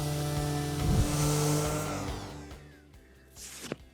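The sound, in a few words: Ryobi 18V ONE+ random orbital sander running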